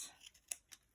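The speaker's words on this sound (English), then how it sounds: "I'm just going to go ahead and trim it" Quick snips of scissors trimming paper or card for a gift box craft, three or four short crisp cuts close by and quiet.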